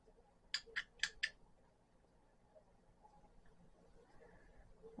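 A pair of newly bought scissors snaps shut in four quick, crisp cuts close by, followed by a quiet room.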